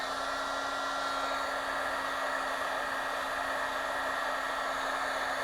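A heat gun blows a steady, even stream of hot air onto a craft piece to soften and bend parts, a constant close whoosh with a faint whine and no talking.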